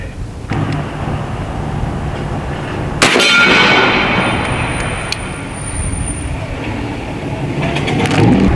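A shot from an AEA Zeus Gen 2 .72 caliber big bore air rifle strikes a steel gong, a sharp loud metallic clang followed by a long ringing tone over outdoor ambience.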